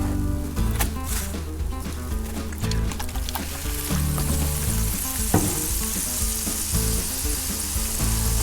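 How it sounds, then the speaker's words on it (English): Steady hissing sizzle of water on a hot Blackstone griddle, continuous and close, with occasional scraping and clicking sounds over it. "You can hear the water sizzling."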